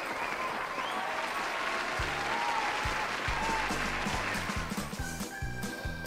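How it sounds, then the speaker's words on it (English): A studio audience applauds a contestant on a puppet game show, a continuous crowd clapping that holds steady for several seconds, with some thumping and tonal sounds mixed in underneath. "A round of applause for our contestant,"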